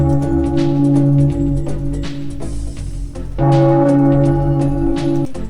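A mournful tolling bell sound effect, two long sustained strikes with rich ringing overtones, the first fading out before the second sounds at full strength and rings on.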